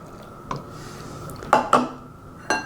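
A sourdough starter is stirred with water in a jar, a few sharp clinks of a utensil knocking the glass over a faint wet background, four distinct taps spaced unevenly.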